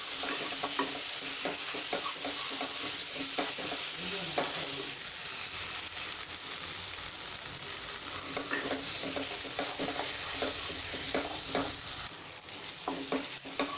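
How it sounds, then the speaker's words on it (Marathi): Chopped raw tomatoes stir-fried in a pan for a Maharashtrian red chickpea curry (lal chanyachi amti), giving a steady close sizzle with frequent spatula scrapes and stirring clicks throughout, no talking. "हे आपल्याला 1 मिनिटभर परतून घ्यायचे, कारण हे कच्चे टोमॅटो होते।"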